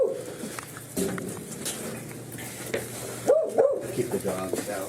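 Dogs bark in short bursts partway through, mixed with people talking and shuffling movement in an indoor setting.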